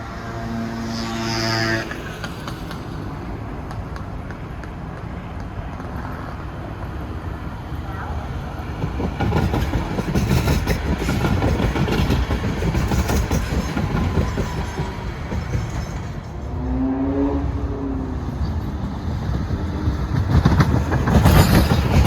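Hudson Bergen light rail train arriving from Bayonne, its rumble and wheel noise building and growing louder over about twenty seconds, with a horn-like tone early on and a brief squeal later.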